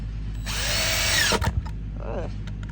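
A power drill drives small copper screws into a garden berry bed cap: one loud, close whir lasting almost a second, a short stop, then a brief second burst.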